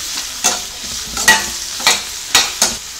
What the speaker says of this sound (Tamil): குடமிளகாவை ஒரு அரைப்பதத்துக்கு வதக்கிக்கிட்டா போதும்.